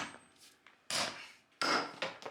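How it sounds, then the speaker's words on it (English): A 10-pound sledgehammer striking a supposedly indestructible shoe: two heavy, sharp thuds close by, each fading quickly, with a few lighter knocks and scrapes between them. "for this one, I have a 10-pound sledgehammer"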